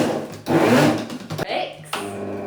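A blender pulses chickpea cookie dough in short motor bursts, loud and close, with a grinding, rubbing texture as the thick mixture churns between pulses.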